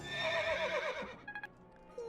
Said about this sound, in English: Man be making himself some horse noises